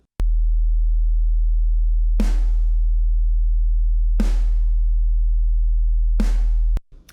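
A continuous deep low hum from a 40 Hz sine wave runs steadily throughout, punctuated by three sharp snare drum hits evenly spaced about two seconds apart.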